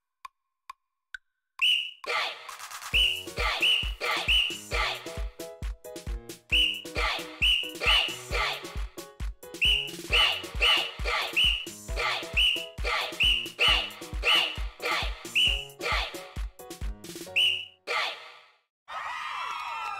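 Repeated sharp whistle blasts in a video game, many short shrill toots in a fast, steady rhythm over thumping beats for most of the stretch, loud and close, with a breathy gasp near the end.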